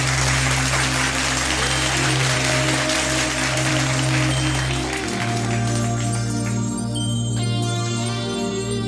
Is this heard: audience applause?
yes